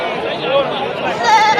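Sheep bleat at a busy sheep market in Nashik, two short bleats rising above a dense crowd murmur and chatter, close and loud.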